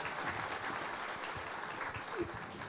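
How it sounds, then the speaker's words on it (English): Applause from a group gathered at a company's 22-year anniversary celebration, a soft, even patter of clapping heard from a distance with a faint voice underneath. "I think deserves a clap."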